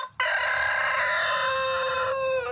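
A rooster near a henhouse crows once, loud and close, a long sustained harmonic call that holds for over two seconds before tapering off.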